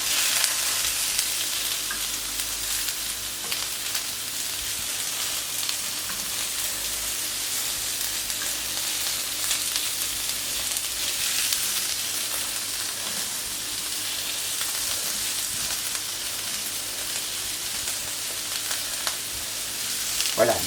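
Diced vegetables, eggplant among them, sizzle steadily in a hot pan for a Catalan-style escalivada, with occasional scrapes and stirring sounds, close and continuous without pause.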